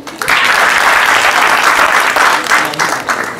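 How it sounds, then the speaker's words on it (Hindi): An audience applauds at a Hindi motivational talk on network marketing, a loud close burst of clapping that rises quickly and swells in waves before tapering off near the end. "ताली हो जाए इनके लिए।"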